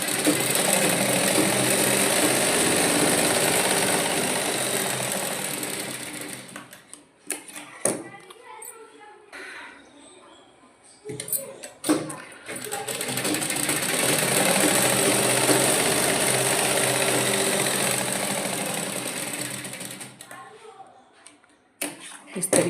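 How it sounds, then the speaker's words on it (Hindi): A sewing machine stitches fabric for a baby girl's dress in two long, steady whirring runs, loud and close, separated by a quieter pause with clicks and handling noises. "अब हम इधर सिलाई करेंगे"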